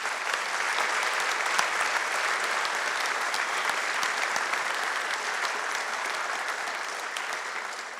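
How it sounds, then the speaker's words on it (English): An audience at a public town meeting gives town staff a sustained round of applause, a broad, even wash of many hands clapping that holds steady throughout and eases slightly toward the end. "Let's give town staff a big round of applause"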